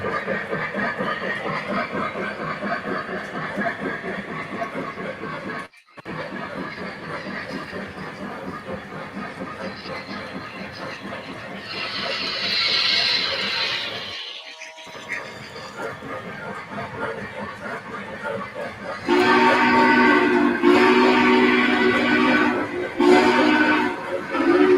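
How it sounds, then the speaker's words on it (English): A model train runs on a home layout with a steady rumble and clatter. A fainter second train is running too, bursts of hiss and brighter tones come in partway through, and someone talks over it at times. "I also got the other train I have on the layout going as well."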